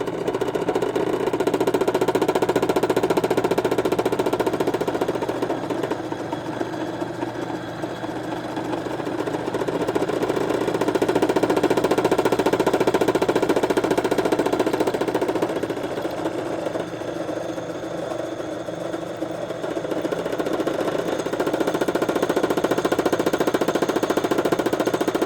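Hand-held power drill boring a hole for workstation wheels, a loud continuous motor whine close by that dips and surges as pressure changes.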